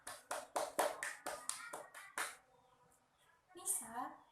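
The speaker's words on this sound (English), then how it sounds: "Give applause everyone." Students in a classroom clap for a classmate who got the high score, about ten sharp, distinct claps in quick rhythm at first, then the clapping stops and a voice and other talk take over.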